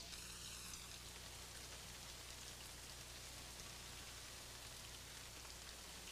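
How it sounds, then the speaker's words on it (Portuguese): Heavy tropical rain pours down steadily at an excavation site, a dense, even hiss of falling water that holds constant from start to finish with no voices. "A forte chuva tropical causa uma paralisação na escavação."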